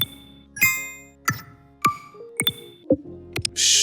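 Interface sound effects from a motion graphics sound bundle: a string of about eight crisp digital pings, chimes and blips, separated by short gaps, clean and close, ending in a brief bright burst.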